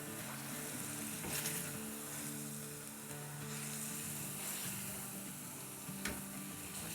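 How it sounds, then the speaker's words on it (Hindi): Turmeric, salt and other spices frying in a pan for chicken salan, a continuous close, bright sizzle with occasional stirring scrapes, steady and alone. "तो बस इसको हम 1 मिनट के लिए भूनेंगे"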